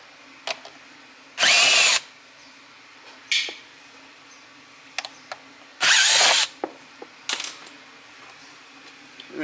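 Power drill running in two short loud bursts, each about half a second, with a few ratchet-like clicks and handling taps between them, removing Phillips screws from seat trim inside a Lexus IS350.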